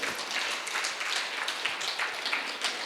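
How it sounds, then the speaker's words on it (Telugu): An audience at an International Meditation Day gathering claps for a couple, a steady, dense patter of many hands that carries on across the whole stretch without any talk. "ఆ దంపతులిద్దరికీ మనం గట్టిగా చప్పట్లు కొడదాం."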